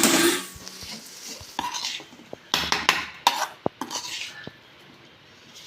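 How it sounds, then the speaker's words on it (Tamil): Banana flower stir-fry being stirred in a metal pan, a series of irregular spoon scrapes and clinks against the pan, close and fairly quiet between the knocks. "இப்போ கிண்டி விட்டுக்கணும்."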